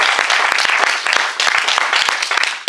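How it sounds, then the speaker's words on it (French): Comedy theatre audience bursts into applause at a stand-up show in Toulouse, a dense, loud wash of clapping with sharp individual claps throughout, briefly thinning near the end before swelling again. "on peut les applaudir bien fort pour ça je pense."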